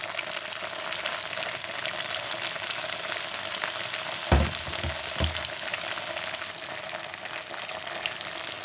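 Tofu frying in a pan, a steady crackling sizzle heard close, with a few brief clunks of utensils against the pan partway through and no talk.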